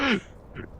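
A summoned bird in the video game Lord of the Rings: War in the North gives a loud, short quacking cry up front, then a fainter second call a moment later.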